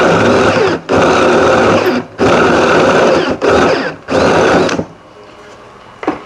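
Power drill boring a counterbore into an A-frame block, a loud whining motor run in three long bursts separated by short pauses, then fading to a quiet tail with a small final click.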